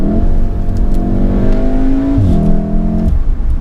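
A VW Golf R 7.5R with a tune revs inside the cabin with a fake 5-cylinder-style rumble, a loud, steady engine drone that drops in pitch at a gear change and then climbs again.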